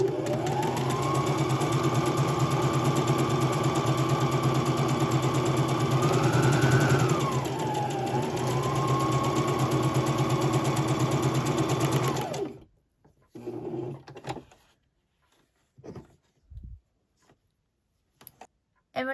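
A sewing machine pieces quilt fabric at a short, tight stitch length, humming steadily and close for about twelve seconds with a brief speed change. It then stops, leaving scattered clicks and handling noises.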